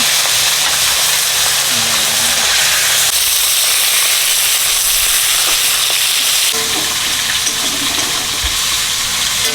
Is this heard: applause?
no